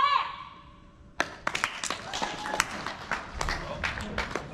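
An audience at a Six Flags Fright Fest panel breaking into quick, scattered clapping after a voice, the sharp claps coming thick and uneven for a few seconds at moderate distance.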